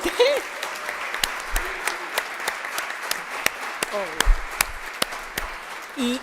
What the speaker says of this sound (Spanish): hay que hacer un aplauso súper especial